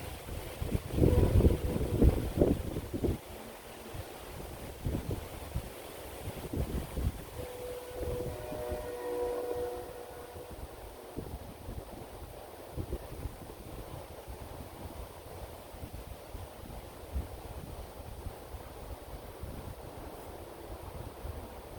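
Strong wind buffets the microphone outdoors in steady gusts, with heavy low rumbling bursts early on and a faint tonal hum in the middle, no voices present.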